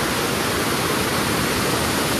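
Rushing water at Vandri waterfall during the monsoon, a loud, steady, broadband roar close by that fills the whole moment without pause or variation.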